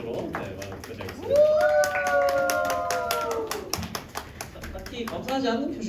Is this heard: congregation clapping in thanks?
yes